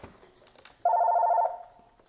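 A telephone bell rings once with an incoming call, a steady trilling burst of about half a second that then trails off, heard alone in a fairly quiet room.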